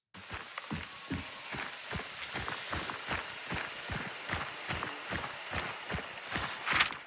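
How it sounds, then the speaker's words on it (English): Two sets of footsteps in a video game, a dense run of sharp, rapid steps overlapping in a quick, uneven rhythm, fairly close and continuous. "There are 2 sets of footsteps there."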